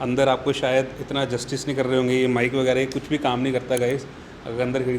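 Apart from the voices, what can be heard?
No distinct noise like a dog, phone or traffic.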